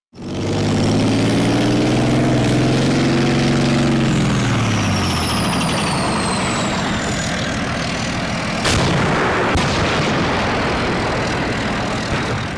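A German tank with a 120 mm cannon roars nearby with a heavy, rising engine whine, then one sharp blast cuts through the rumble.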